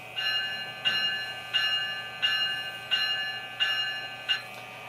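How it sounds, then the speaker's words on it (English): The bell of an Atlas NJ Transit ALP-45DP model locomotive, ringing seven evenly spaced metallic dings at a steady pace over a low, constant hum. "The bell."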